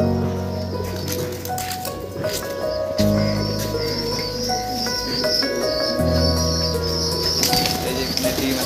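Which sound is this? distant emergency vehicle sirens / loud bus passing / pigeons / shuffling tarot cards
pigeons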